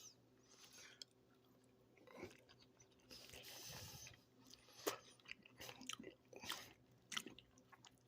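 Food with onion and potato being chewed close to the mic, soft crunchy bites and wet mastication coming in irregular bursts over a quiet background, with no talking.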